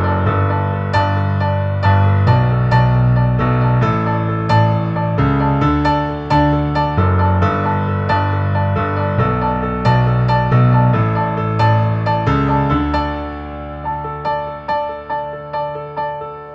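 Solo piano plays the chorus of a pop song, with a repeating right-hand pattern up the octave over steady left-hand bass, loud and close, ending on sustained pedaled chords.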